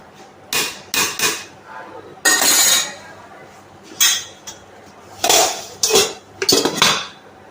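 A metal lid is handled and set onto a pot of Mughlai biryani with country chicken and coconut milk, producing several loud, close clanks and rattles of metal against metal in bursts with quiet gaps.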